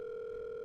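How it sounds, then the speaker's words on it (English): A telephone handset emits a steady, unbroken dial tone, close and clear, for under a second with nothing else heard. "even as I dial Professor Andrew's number"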